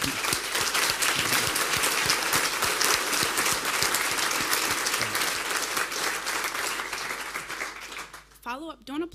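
Sustained, dense audience applause fills a DrupalCon Munich 2012 conference hall, with many hands clapping steadily at close range before dying away as a speaker begins talking at the very end.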